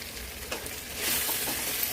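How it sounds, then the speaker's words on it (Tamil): Balloon vine leaves are sautéed with tomato and onion in hot oil for a medicinal greens curry, with a close, steady sizzle and frying crackle that grows louder as the leaves are stirred in. "இப்போ நம்ம பறித்து வச்சுருக்க நம்ம முனக்கத்தாயிலையும் அதில் சேர்த்துக்கலாம்."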